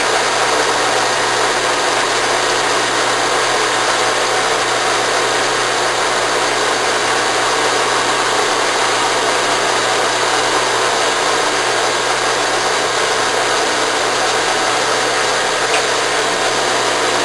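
Enco tapping head on a machine threading big holes in metal, a steady mid-pitched motor hum with faint vibration running unbroken and fairly loud throughout, no voices.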